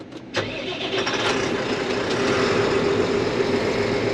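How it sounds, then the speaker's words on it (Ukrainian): A CLAAS AXION 830 tractor engine cranks with a sharp burst, then catches and settles into a loud, steady, rumbling idle close by. "Заведемо трактора, ну звучок в нього."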